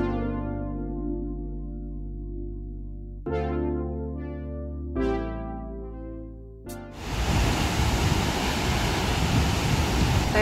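Floodwater rushes in a loud, steady roar that comes in abruptly after several seconds of tonal music and carries on to the end, close and unbroken.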